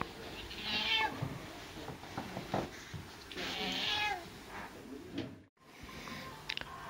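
A cat meows twice, drawn-out plaintive calls a few seconds apart, nearby on a sofa in a quiet home under renovation with faint household noises.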